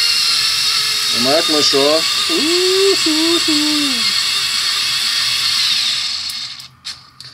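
An electric screwdriver drives a 5x100 screw, its whining motor stuttering and bogging in pitch under load over a steady hiss, with someone speaking briefly near the end.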